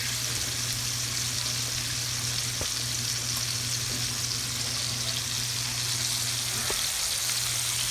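Steak sizzles with butter in a cast iron pan, a loud, continuous frying hiss with faint crackles throughout and no talking.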